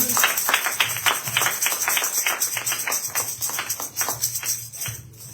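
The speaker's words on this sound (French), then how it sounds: "Est-ce que nous pouvons applaudir pour cette belle parole?" A church congregation applauds during a French-language sermon, a steady crowd of overlapping claps filling the room at moderate volume, with a low hum beneath and the clapping thinning slightly toward the end.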